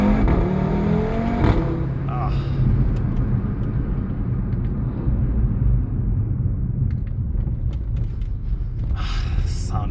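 A 2017 Audi RS3 8V2 with a 400 hp five-cylinder and S-tronic gearbox pulls hard on the road, a steady loud engine roar and drone heard from inside the cabin for the whole stretch, rising through an early shift.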